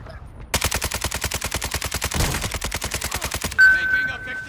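Rapid automatic gunfire in Warzone on Ashika Island, a long steady burst of close, loud shots followed by a sharper blast and a brief ringing tone at the end.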